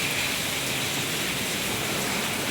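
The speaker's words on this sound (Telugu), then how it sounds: "వర్షం బాగా కారుతుందో, బాగా వస్తుందండి వర్షం" Heavy rain pours down and drips steadily, a dense, even hiss of water that holds without pause and stands alone with no voices.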